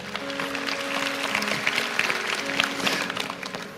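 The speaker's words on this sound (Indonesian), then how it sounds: "Haleluya, kasih tepuk tangan untuk Tuhan" A church congregation applauds during a sermon, a steady wash of clapping that carries throughout the hall, with faint tonal music and a few voices underneath.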